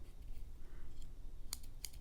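Scissors being pulled out of a Mossy Oak keychain multi-tool, giving two sharp metallic clicks near the end, close and fairly quiet against a faint background hiss.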